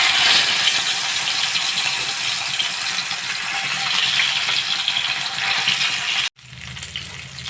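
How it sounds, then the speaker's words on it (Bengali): Small charapona fish fry in hot oil in a kadai, a loud, steady broadband sizzle and crackle that runs for several seconds before cutting off abruptly, followed by a quieter hiss. "এবারে মাছগুলোকে ভেজে নেব।"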